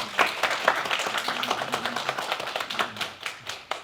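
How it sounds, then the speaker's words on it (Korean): Church congregation giving welcoming applause during a children's Sunday service, a moderate crowd clapping steadily at mid distance in a reverberant hall. "우리 환영의 박수 부탁드립니다"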